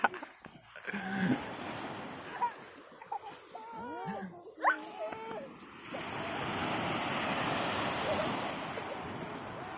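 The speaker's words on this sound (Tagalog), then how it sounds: "Ano yung maliit pa yung alon na yan, no? Maliit. Low tide niya yan." Small waves lapping at low tide on the West Philippine Sea shore, a steady wash with wind noise, briefly broken by people talking nearby before the surf takes over again.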